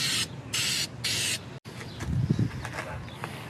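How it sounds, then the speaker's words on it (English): Three short bursts of clear coat hiss from an aerosol spray can onto a raw 1978 Volvo 240 with a Chevy V8 swap, each spray lasting about a third of a second, close and fairly loud, followed by quieter shop handling noises. "Spray some clear coat on there."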